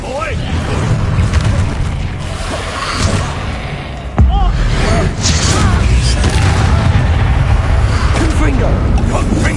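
Confringo blasting-spell explosions in the Hogwarts Legacy video game, with booming blasts and crashing impacts against a constant noisy battle bed and one sharp jolt midway, while a voice repeatedly shouts spell names over the action.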